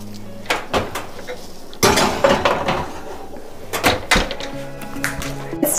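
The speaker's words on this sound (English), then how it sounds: "it's time to put in the oven." Metal baking pans and an oven rack clatter and clunk as a tray of brookies goes into the oven, with several sharp knocks and a door thump, near and loud.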